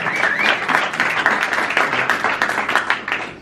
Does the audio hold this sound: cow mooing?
no